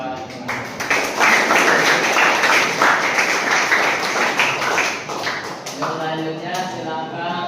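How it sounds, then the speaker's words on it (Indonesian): An audience at a university presentation session claps steadily for several seconds, dense and fairly close, before thinning out as a voice begins speaking. "Berikan tepuk tangan buat"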